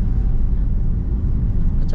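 Toyota Calya 2019 with a manual gearbox accelerating in third gear along a busy shopping street, its engine a steady low rumble with road noise filling the whole stretch, close and fairly loud, no talking.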